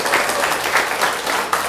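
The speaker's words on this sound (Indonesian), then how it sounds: "Beri tepuk tangan buat Pak Lamhot" Audience applause at a training event in Samosir, a short burst of steady, dense clapping from a crowd at moderate loudness.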